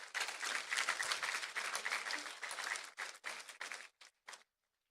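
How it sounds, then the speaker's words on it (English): A graduation audience applauds its teachers with a burst of dense clapping that holds steady, then thins into a few scattered claps and stops. "please can we give them a round of applause for all of the work this year."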